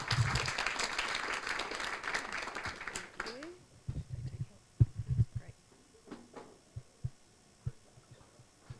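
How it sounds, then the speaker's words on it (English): Audience applause at a legal industry conference summit, a full burst of clapping for the first three seconds that quickly fades to scattered claps and footsteps before a speaker begins. "Big round of applause, please, for Fiona."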